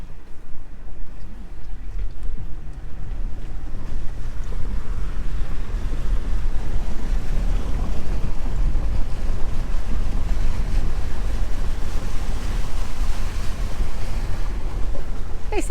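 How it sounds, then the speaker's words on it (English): A vehicle pushes through a river crossing, a loud, continuous rush of churning water and wind buffeting the microphone, steady throughout without talk. "Excitement is our first river crossing."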